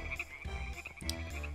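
A short burst of frog croaking from a frog-covered balloon in the game Deiland: two or three deep, throaty croaks close together, loud and near, above a constant high ringing tone.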